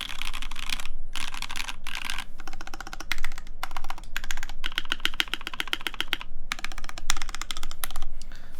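Rapid typing on a mechanical keyboard with MX switch housings, PE stems and PBT keycaps, a gasket-mount board with a hollow tone: dense bursts of clacky keystrokes in quick runs with brief pauses, close and alone.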